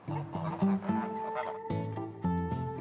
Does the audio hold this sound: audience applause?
no